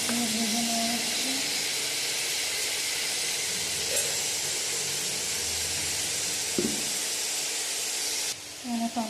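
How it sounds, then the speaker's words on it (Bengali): Pieces of pointed gourd (potol) frying in oil in a pan, a steady close sizzle and hiss that runs the whole time before briefly dropping away near the end, with a faint voice talking beneath it. "পটলগুলো একটু নরম হচ্ছে, ভেজে নেওয়া হচ্ছে।"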